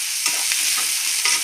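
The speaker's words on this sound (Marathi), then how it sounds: "यात आपण टाकायचे 2 चम्मच तेल आणि हे चांगलं आपण परतून घेऊ।" Chicken masala ingredients sautéing in two spoons of oil, a steady close sizzle and hiss with a few soft stirring scrapes, no voices.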